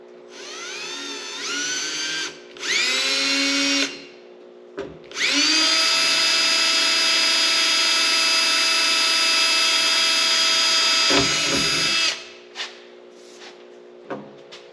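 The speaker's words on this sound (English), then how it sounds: "I'll drill the bigger one." An electric drill enlarging a pilot hole runs in a couple of short bursts, then one long sustained whine for several seconds before stopping, followed by a few faint clicks and knocks.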